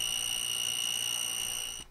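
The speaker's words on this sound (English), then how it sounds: "It also indicates voltage via an audible alarm." A testo 745 non-contact voltage tester gives a steady, high-pitched electronic alarm tone, continuous and clear with no voices, cutting off abruptly at the end.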